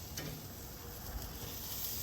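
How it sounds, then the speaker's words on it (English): Faint, steady sizzling of meat on an Oklahoma Joe's Bronco drum smoker grill, a soft continuous crackle with no talking. "I do hear some sizzling."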